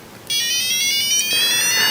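A homemade breadboard safety device sets off its alarm: a shrill electronic buzzer tone starts abruptly and holds steady, loud and close, with no talking.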